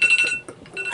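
A timer alarm goes off during a cotton ball challenge, a steady electronic beeping pattern that is loud and close and briefly dips midway.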